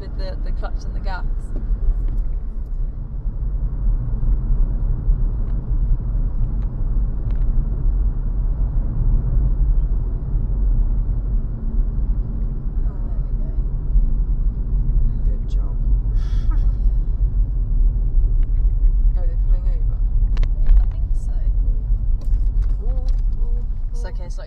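A manual car drives along a rural road with a steady, loud engine and road rumble from inside the cabin, while people talk over it throughout.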